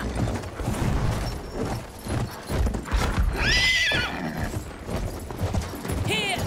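A horse in the video game Battlefield 1 whinnies with a high, wavering neigh and then a short second one, over galloping hoofbeats, game noise and people talking.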